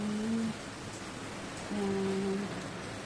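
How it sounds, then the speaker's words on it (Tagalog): Heavy rain falls outside during bad weather in Taishan, China, a steady broadband hiss with two brief low tonal hums over it. "Tingnan nyo ang labas. Malakas na ang ulan."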